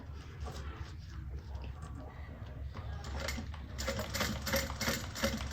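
A sewing machine stitches a row of quilting 1/4 inch from the previous one, making a quiet rapid mechanical whir and clatter over a low hum that grows somewhat louder near the end.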